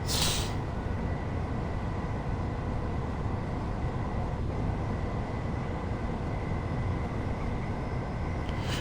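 A Gatwick Express Class 387 electric train runs on the Brighton Main Line, its interior filled with a steady rumbling drone and faint electric whine, continuous and uniform with no voices.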